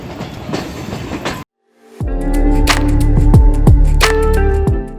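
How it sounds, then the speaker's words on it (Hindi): Sir Syed Express pulling out of Khanewal Cantt railway station after crossing the 6 Down Green Line Express, heard from on board: a hiss of passing noise breaks off into a brief silence, then a steady loud rumble with rhythmic clickety-clack wheel beats. "तो इस वक्त हम खानिया कैंट रेलवे स्टेशन से निकल रहे हैं"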